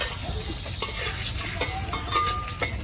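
Bay leaves sizzling in hot oil in a pan, a close, steady crackling hiss with a few sharper pops and a faint clink of a utensil, no voices.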